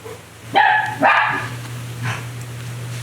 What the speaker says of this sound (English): Speaking of puppies, somebody's barking.